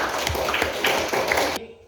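High school economics class giving a short burst of applause, dense clapping from many students in a room with a few rhythmic pulses, cut off abruptly near the end.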